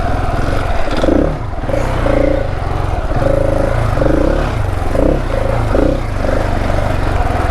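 A Husqvarna 701 enduro motorcycle rides through deep sand on a trail, its single-cylinder engine droning steadily up close with repeated rising and falling throttle surges and some clatter throughout.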